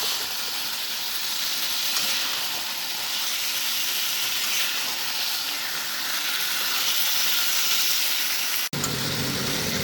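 Chicken marinated that morning goes into a pan of fried masala together with vegetables for jhinge bata chicken, setting off a loud, steady sizzle and hiss that holds for about nine seconds before a brief break.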